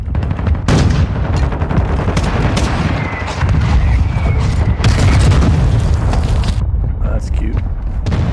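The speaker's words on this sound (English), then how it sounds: "Our mortar strike is inbound." Mortar strike explosions in the video game Modern Warfare II, heavy booms and rattling gunfire layered throughout, loud and close, with a player talking over the combat.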